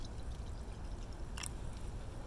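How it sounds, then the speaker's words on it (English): Water is poured into a canning jar about a third full of clay, giving a steady, soft, low gurgling rush that runs throughout, close and fairly quiet, with one brief brighter splash partway through. "Now you will pour water over the clay sample."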